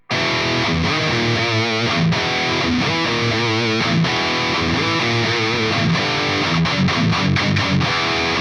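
Loud, heavily distorted electric guitar plays a downpicked main riff, a steady, driving pattern of chugging notes and ringing chords that continues dense and unbroken, with no voices.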